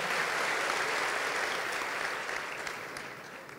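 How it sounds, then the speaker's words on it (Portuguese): Sustained applause from a church congregation, dense and steady, slowly tapering off toward the end. "Dê um aplauso bem forte, pode se assentar."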